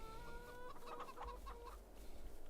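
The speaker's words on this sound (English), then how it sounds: "Chickens are having very good chicken fun" Chickens cluck in Farming Simulator 22, a quick cluster of soft clucks and short calls over low farm ambience, fairly faint, with no one talking.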